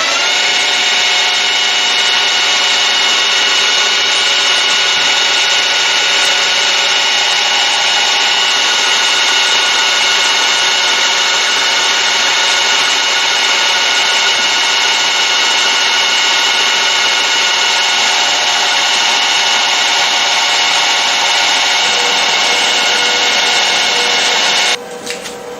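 A milling machine takes a continuous cut on a mill vice stop, a loud, steady tonal whine with a rasping edge, held for over twenty seconds before it drops off at the end.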